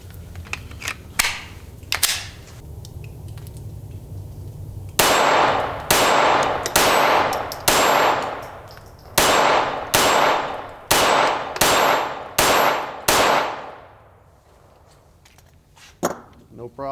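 Glock 44 .22LR pistol firing at steel targets outdoors: about nine sharp, evenly spaced shots, each followed by a metallic ring, with a few fainter pops before and after the main string.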